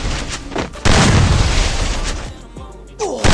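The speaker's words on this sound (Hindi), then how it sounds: "अरे हाँ लॉन्ग रेंज से मार रहा है स्नाइपर" AWM sniper rifle firing in a video game, heavy booming shots at long range, loud and close, with a big blast near the end and another just after, no talk.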